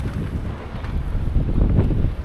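Strong wind buffets the microphone outdoors on a farm, a steady low rumbling roar with gusty swells that grow louder toward the end, with no one talking.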